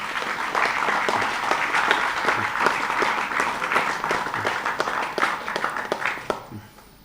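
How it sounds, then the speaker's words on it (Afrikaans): Applause from an audience at a university impromptu debating competition, honoring debate teams: dense, loud clapping that holds steady for several seconds, then thins into a few scattered claps and fades out. "Dames en here, kom ons gee vir hierdie manne nog 'n lekker hande klap."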